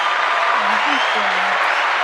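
Steady broadband clapping from a crowd fills the whole stretch, with a faint voice tone murmuring underneath.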